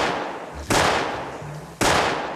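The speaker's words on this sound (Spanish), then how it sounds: "y llamándolo por su nombre, Eulogio, le tira 3 balazos a quemarropa." Pistol shots fired at point-blank range in a street shooting, two loud sharp cracks about a second apart, each followed by a long ringing decay.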